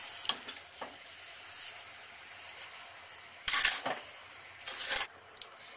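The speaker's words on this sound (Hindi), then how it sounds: "चीनी डालने के बाद इसको हम मिक्स कर लेंगे।" Grated carrot halwa being stirred with sugar in a pan over the gas flame, soft intermittent scraping and a light sizzle, with a couple of louder spoon scrapes near the end, no voices.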